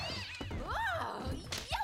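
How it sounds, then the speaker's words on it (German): A small cat meows with rising and falling cries over a background of voices, with a couple of soft thumps nearby. "Das ist nur unsere kleine Katze"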